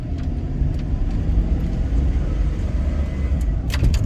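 A Chevy truck drives on a cold engine that is still warming up, held in a long first gear: a steady low engine rumble and road noise from inside the cab, with a faint rattle near the end.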